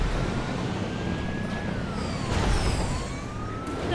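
A wailing ambulance siren in a video game sweeps slowly up and down at moderate distance over a steady rumble of traffic noise, with no speech.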